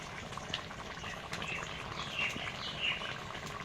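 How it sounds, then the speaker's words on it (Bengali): Chana dal simmering with coconut milk and garam masala, a low, steady bubbling burble with occasional faint pops, quiet and continuous without talk. "আমি আর 2 মিনিট জাল করে নেব গরম মশলা দিয়ে।"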